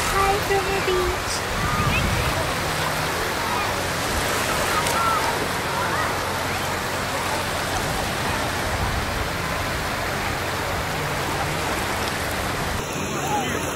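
Ocean surf at Lewes Beach, Delaware, makes a steady broadband wash of breaking waves that continues close and loud throughout without pause.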